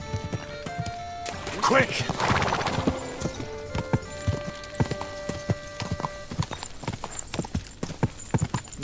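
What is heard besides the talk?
horse galloping hooves in video game Kingdom Come: Deliverance II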